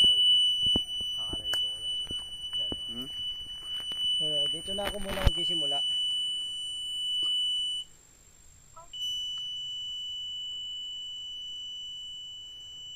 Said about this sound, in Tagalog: galing dito sa cellphone, pupunta sa dito yung tunog.